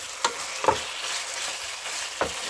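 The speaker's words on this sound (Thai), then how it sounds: "คั่วให้เหลืองนะ" Ingredients with oyster sauce and MSG stir-fried in a pan: a few sharp metal spatula clinks stand out over a steady, close sizzling hiss.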